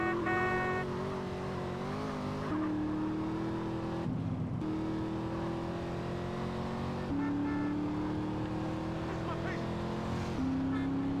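A car engine drones and shifts pitch steadily in GTA San Andreas, revving up and down through gear changes at moderate volume, with a voice talking over it in places.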